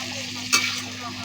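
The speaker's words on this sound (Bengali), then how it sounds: "তাই ভালো করে মাংসটা কষিয়ে নিচ্ছি" Meat stir-frying in a pan, a steady sizzle with one brief louder scrape of stirring near the middle, close and fairly quiet.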